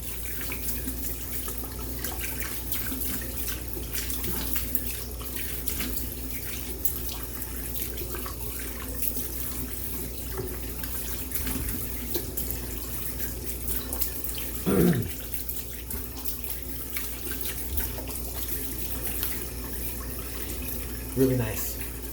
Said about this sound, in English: All right, let me rinse this off. Cold water.